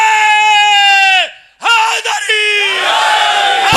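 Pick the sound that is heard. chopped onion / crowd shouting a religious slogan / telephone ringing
crowd shouting a religious slogan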